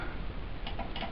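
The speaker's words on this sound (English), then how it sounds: "You can hear the relay clicking inside the pack" A relay clicks inside a Ghostbusters proton pack prop, giving a few faint, quick ticks over low background hiss.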